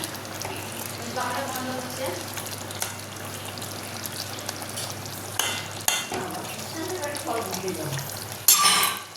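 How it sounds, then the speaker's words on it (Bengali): A thin fish curry made with onion and cumin paste bubbles on the stove, giving a continuous close simmering sizzle with scattered pops and a brief sharper burst near the end. "মাছের ঝোল কিন্তু রেডি হয়ে গেছে, টকটক করে ফুটছে।"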